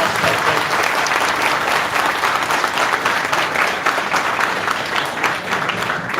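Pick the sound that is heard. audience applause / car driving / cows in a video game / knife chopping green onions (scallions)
audience applause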